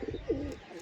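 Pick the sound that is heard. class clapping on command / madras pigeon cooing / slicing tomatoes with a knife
madras pigeon cooing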